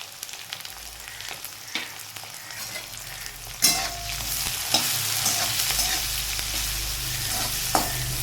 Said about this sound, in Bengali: উচ্ছেটাকে আমি এবার ভেজে নেবো